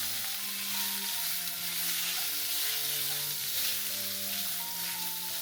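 Meat fries in an iron frying pan with a steady, close sizzle and crackle of hot oil, continuous and fairly loud throughout, with no talking.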